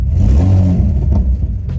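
An Infiniti G35 drift car's engine runs close and loud, a deep rumbling idle that swells in brief revs and then settles, heard alone.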